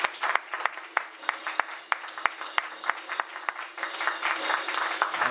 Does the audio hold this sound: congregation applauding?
yes